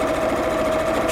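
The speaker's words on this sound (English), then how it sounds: "let's sew across the bottom" A sewing machine runs steadily while stitching across the bottom of a fabric pocket, a close, continuous whirring hum with a fast regular mechanical beat and no talking.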